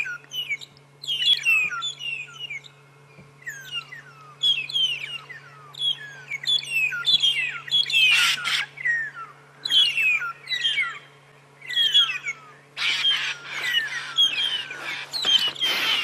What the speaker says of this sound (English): they're being attacked by Birchall starlings